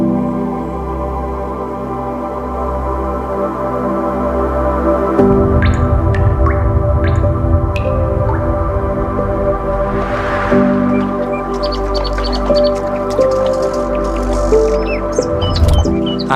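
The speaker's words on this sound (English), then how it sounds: "There is a little stream flowing underneath the cave. The water is crystal clear and the sound of stream echoes throughout the cave." A small, crystal-clear stream flows beneath a limestone cave in Langkawi, a steady close babble with scattered bright drips and plinks ringing in the echoing chamber.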